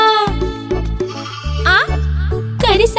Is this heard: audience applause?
no